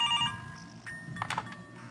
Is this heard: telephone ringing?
yes